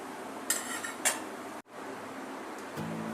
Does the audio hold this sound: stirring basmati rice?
yes